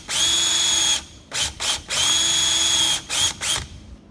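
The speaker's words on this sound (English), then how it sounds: "I'm gonna drill a hole to that little marking." A cordless power drill boring a hole into lumber, its motor whining steadily in long bursts broken by short on-off trigger pulses, close and loud with no talk.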